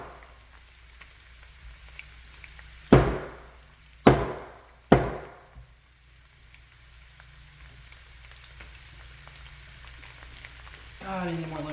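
Lemongrass stalks bashed three times with the flat side of a mallet in a Thai red curry kitchen, sharp separate thuds about a second apart, with quiet sizzling and kitchen noise between them.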